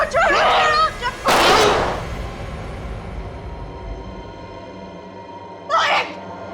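A single sharp gunshot in a TV crime drama bursts out loud and close after a shout, followed by lingering noise and another brief cry.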